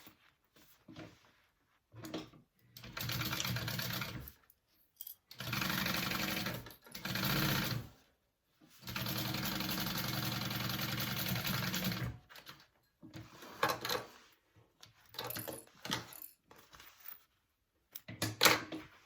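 A sewing machine bastes the vinyl lining of a crossbody bag in several bursts of steady, fast stitching, each a few seconds long, separated by pauses, with shorter choppy runs toward the end.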